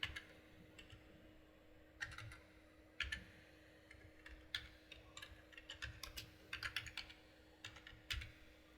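Someone types a page name on a computer keyboard, producing close, crisp clicks in irregular short bursts over a quiet, steady background hum.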